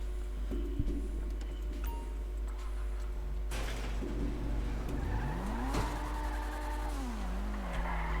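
A car in the GTA V video game speeds, drifts and crashes, with engine drone, sharp impact bursts and rising and falling tire squeals over a steady low rumble.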